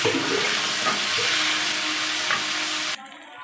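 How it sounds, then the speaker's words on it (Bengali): Green chilli and tomato frying in oil in a pan, a steady close sizzle with faint scraping stirs, cutting off abruptly near the end. "কাঁচা লঙ্কা, টমেটোটা ভাজা ভাজা হয়ে গেছে"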